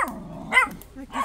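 A dog outdoors giving a few short barks and yips in quick succession, close and moderately loud, with a low growl between them.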